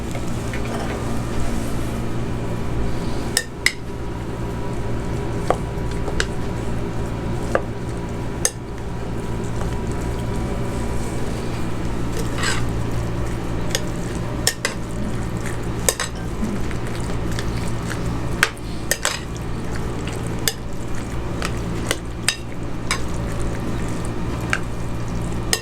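Thick whipped curd is mixed in a bowl for dahi bhalla, with steady wet squishing and intermittent clinks of a spoon against the dish. The sound is close and continuous over a low hum.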